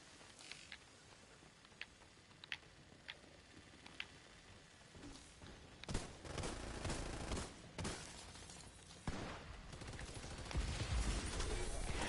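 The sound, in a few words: gunfire from a video game, The Division 2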